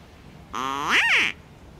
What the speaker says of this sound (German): Und hier einmal die Tröte verwenden.